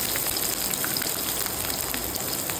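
Onions hitting hot oil in a pan for a fish curry, a steady dense sizzle and crackle with fine spattering pops throughout, close and continuous with no talking.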